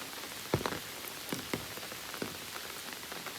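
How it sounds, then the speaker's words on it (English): Rain patters steadily on a surface along the Appalachian Trail, with scattered heavier drops ticking out irregularly against a soft, continuous hiss. "here comes the rain"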